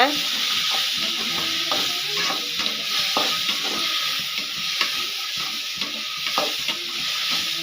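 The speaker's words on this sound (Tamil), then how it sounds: "அதையும் போட்டு நல்லா வதக்கிக்கலாங்க." Ginger garlic paste sizzles steadily in a hot pan as it is sautéed for a chicken gravy, with a constant frying hiss and repeated scrapes of a stirring spoon.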